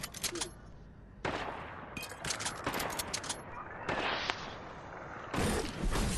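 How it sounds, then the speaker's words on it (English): Fortnite gunfire crackles in repeated bursts of sharp reports, some near and loud, others spread across several seconds, with brief quieter gaps and players talking over the shooting. "We're getting shot!"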